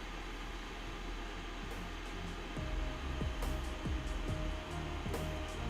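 A hot air tool blows a steady loud rush of air while heating part of a soldered prototype board, with faint clicks and tonal chirps under the noise.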